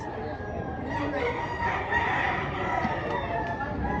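Roosters crow repeatedly over a busy chicken market, their calls overlapping and fairly close, with voices chattering underneath.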